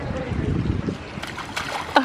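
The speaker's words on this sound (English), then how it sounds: "You want to sit and splash?" A small child splashes in chilly shallow water outdoors, a soft, uneven burble of light splashes and trickles close by, with an adult's voice in the background.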